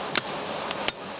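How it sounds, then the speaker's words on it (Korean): Hand tools strike marble at a stone processing workshop near a mine in Makrana, India, as a hammer drives a chisel to dress the rough stone: three sharp metallic clinks at irregular intervals over a steady background hum. "울퉁불퉁하고 모난 부분을 망치와 정을 이용해 일일이 손으로 다듬는 기본 작업이다"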